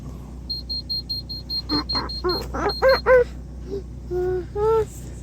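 A baby car seat reminder alarm gives a rapid series of short, high electronic beeps in a steady pulse, followed by a voice speaking briefly over it.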